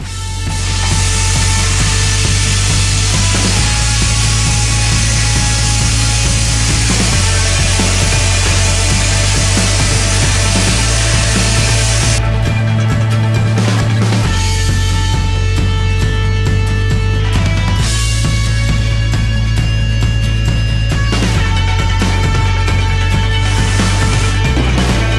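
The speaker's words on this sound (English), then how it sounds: "back again after blasting" Wet blasting cabinet (vapor honing) stripping paint from a part, a loud, steady hissing spray with a constant low machine hum running throughout, briefly interrupted and resuming, with no talking.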